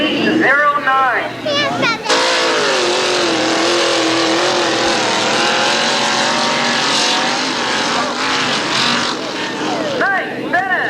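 A mud run truck at the 1996 Cornstock 500 drives hard through a muddy course, its engine roaring loudly and continuously and rising and falling in pitch. Talk is heard at the start and again near the end.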